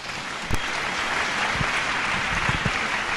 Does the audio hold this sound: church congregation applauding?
yes